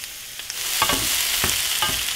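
Onion frying in a hot pan for a Chilean chorrillana, giving a steady close sizzle with a few sharp crackles and stirring scrapes, and no voices.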